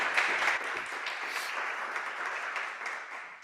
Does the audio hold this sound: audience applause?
yes